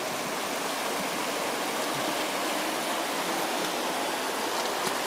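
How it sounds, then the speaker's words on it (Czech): A mountain stream rushes far below a night-time via ferrata in the Alps, heard as a steady, broadband wash of flowing water with no speech over it. "To trošku, co jde vidět, je potok."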